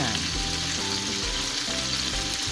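A pork chop sizzles loudly and continuously in a pan, a dense, close frying crackle with no voices over it.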